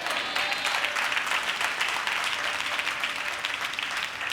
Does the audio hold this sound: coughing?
no